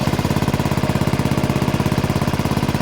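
A Honda Forza 125 scooter engine runs right after starting with no cranking noise, giving a loud, close, rapid and very even thumping beat at a steady idle throughout.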